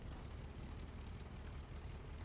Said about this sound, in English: Is there one thing I do like is the sound of this engine. It just sounds all meaty.